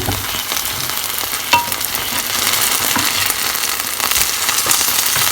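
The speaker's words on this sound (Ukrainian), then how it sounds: "Потім переверну і знову десь хвилин три, тому що вони такі не товсті, я роблю, а трохи тонесенькі, щоб швидко вони смажились." Thin turkey cutlets frying in a pan give a steady, loud, dense sizzle with scattered crackling pops, close up and with no talking.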